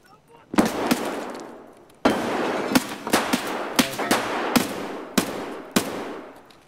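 Gunfire in the video game Escape From Tarkov: a dozen or so sharp, loud gunshots in an irregular sequence, each with a long echoing tail, including a short burst of rapid shots near the middle.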